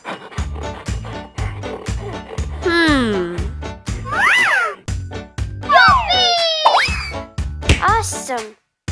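Several cartoonish cat meows rise and fall over a steady, rhythmic thumping music beat, with a voice chattering alongside in a playful children's setting.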